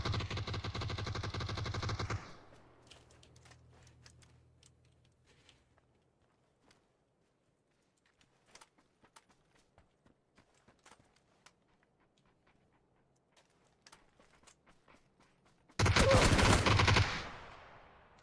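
Automatic gunfire rattles loud in PUBG, a dense burst at the start, then near-silence with scattered faint taps and footsteps before another sharp volley near the end.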